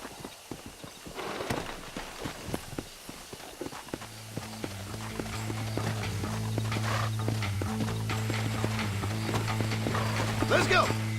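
Horse hooves clip-clop steadily in Red Dead Redemption as riders move out, rhythmic close hoofbeats over a low droning hum, with voices talking over the travel.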